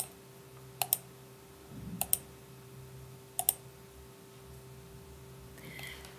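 Three quick double clicks of a computer mouse, selecting cards on a study website, spaced a second or so apart, crisp and close in a quiet room with a faint steady hum beneath.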